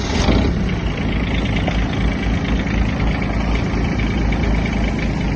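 The diesel engine of a Kubota GB-135 Japanese mini tractor runs close and loud, turning over at the start and then settling into a steady, rumbling idle.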